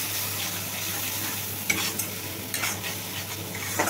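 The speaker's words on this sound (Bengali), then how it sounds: "মিডিয়াম ফ্লেমে কষিয়ে নিচ্ছে" Spice paste of ground tomato and green chilli with turmeric, cumin and salt, sautéed over a medium flame for tilapia curry, sizzles steadily with scraping stir strokes at close range, a few sharper clinks from the spoon against the pan.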